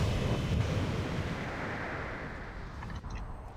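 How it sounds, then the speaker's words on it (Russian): A raid boss explosion in an online video game lands as a loud, sustained rumbling blast that fills the whole clip, with a dense low roar and a few faint bright pops near the end. "Взрыв"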